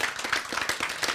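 An audience at a Korean Bible-and-science lecture claps, a brief burst of quick, overlapping hand claps close by at an even level.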